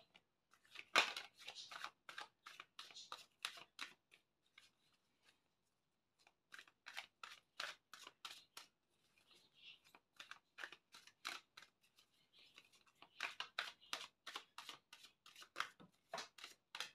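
Tarot cards handled and drawn, giving soft, quick rustling and flicking in bursts separated by a quiet pause, close and faint with no talking.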